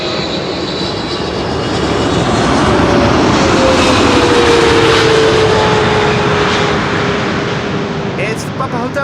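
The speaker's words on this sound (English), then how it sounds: "This is KLM Flight 598, arriving from Cape Town, South Africa." A KLM Boeing 777-300 on flight 598 from Cape Town arrives at Amsterdam Schiphol, its jet roar swelling to a loud peak midway with a slowly falling whine, then easing off toward the end.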